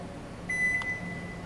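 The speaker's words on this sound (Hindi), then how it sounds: "कुकिंग खत्म होने पर 5 बीप्स के साथ माइक्रोवेव बंद हो जाएगा।" A built-in microwave oven, model GL 672, gives a single clear electronic beep at moderate level over a steady low hum. The cooking-end sequence is five beeps, but only one tone is heard here. No one speaks.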